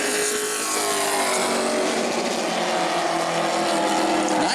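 A Sportsman race car slides sideways out of turn four during qualifying at New Smyrna, its engine a loud, sustained high-pitched howl with rising harmonics, heard continuously from a moderate distance.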